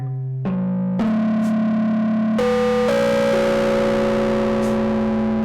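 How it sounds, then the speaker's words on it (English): A distorted, buzzy synthetic tone steps up through several sustained pitches, each note ringing loud with a gritty, saturated edge. "There's distortion."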